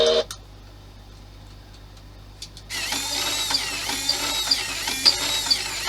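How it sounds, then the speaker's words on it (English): Small electric motors drive a model Titanic ship; a faint hum precedes a steady, whirring, slightly rough buzz that starts partway through and runs on, with tiny irregular ticks riding on it. "Let's see if the engines work."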